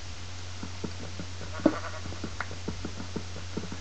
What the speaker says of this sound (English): I can hear sheep somewhere.